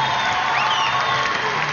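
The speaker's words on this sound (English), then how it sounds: "Brazilian fans amongst the crowd, straight to their feet" Brazilian fans in the crowd cheering at a beach volleyball semifinal, a steady roar of voices and whoops filling the arena, loud and continuous throughout.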